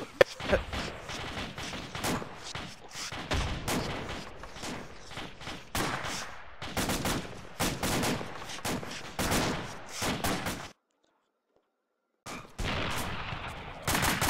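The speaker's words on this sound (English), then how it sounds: "Enemy fire! Under fire!" Rapid, loud bursts of gunfire from a Star Trek video game crackle in repeated volleys, broken by a short pause before the shooting resumes.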